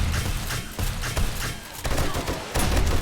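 Rapid bursts of gunfire in the video game 7 Days To Die, Alpha 18, dense and continuous across the moment with heavy low thumps, loud and close, with no talk over it.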